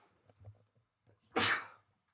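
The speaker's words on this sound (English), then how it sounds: "1 sec, gotta sneeze." A single loud sneeze bursts out after a moment of faint rustling and quiet background sounds, then fades quickly.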